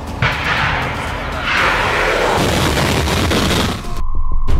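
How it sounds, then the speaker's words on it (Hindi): An RS-24 Yars missile fired from its launcher gives a loud, sustained roaring rush that swells and holds for about four seconds before cutting off abruptly. "मिसाइल लॉन्चर पर खड़ी की जाती है और फिर दाग दी जाती है।"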